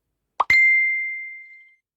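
A single bright notification bell dings once after a quick soft pop, its clear tone ringing out and slowly fading over about a second, with nothing else around it.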